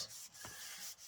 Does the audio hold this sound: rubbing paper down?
yes